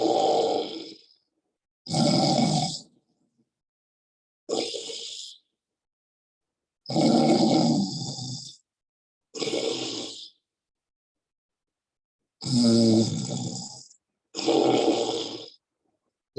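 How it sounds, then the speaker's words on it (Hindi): Ujjayi pranayama breathing in a yoga session, made with a snoring rasp in the throat: seven long, loud, rough breaths, each followed by silence, with no talking. "जैसा मैं सांस निकालता हूँ तब भी खर्राटे की आवाज आती है"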